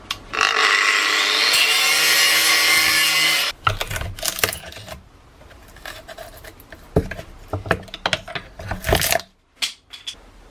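A power tool cuts through a carbon fibre propshaft tube from a Mazda RX8, giving a loud, steady, close grinding whine for several seconds, followed by irregular knocks, scrapes and rattles as the work is handled.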